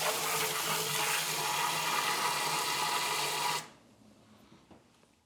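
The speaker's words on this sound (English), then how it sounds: "I'll just kind of spray the elements and everything down" Loud, steady rush of water spraying from a hose onto brewing equipment heating elements for several seconds, then cutting off abruptly into quiet drips and faint ambience.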